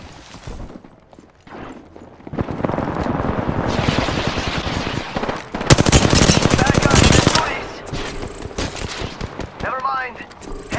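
Rapid automatic gunfire from a sci-fi video game firefight bursts in dense volleys, loudest in the middle, with a character's voice calling out over the shooting and a brief electronic whine near the end.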